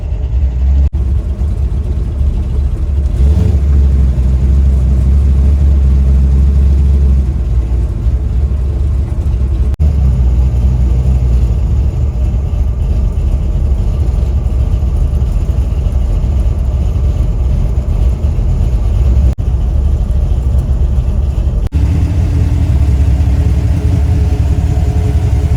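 Hot rod engines idle loudly and steadily at a car show's idle competition, a deep continuous rumble with occasional shifts in pitch and a faint high whine through the middle.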